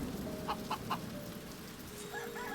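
Chickens in the colony-building game Stonehearth cluck in a few short, soft bursts over a steady low ambient bed, with faint tonal calls near the end; no talking.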